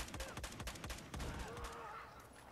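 A high-recoil gun fires in Battlefield 4, a rapid automatic burst of about eight evenly spaced, sharp shots that then trails off into a fainter rattle and noise.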